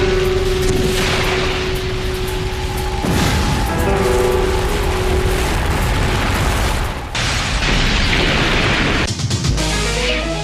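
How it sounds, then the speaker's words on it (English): Massive explosions in the sewers of Guadalajara, Mexico, caused by a leaking gasoline line: loud, continuous booming and rumbling with bursts and crackles, layered under a dramatic tonal score. "A series of massive explosions devastates the Mexican city of Guadalajara."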